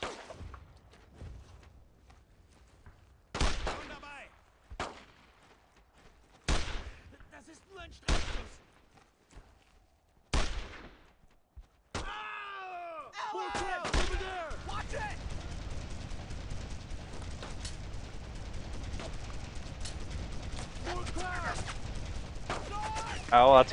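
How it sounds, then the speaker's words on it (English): Gunfire from the World War II shooter Brothers In Arms: Road To Hill 30 starts as scattered single booming shots, then becomes sustained, dense machine gun fire that continues loudly to the end. "that's a machine gun"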